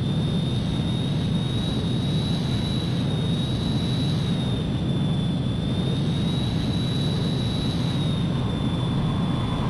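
A jet aircraft engine roars steadily as the plane comes in to land in Ace Combat 3, a loud continuous drone with a high whine held throughout and no voices.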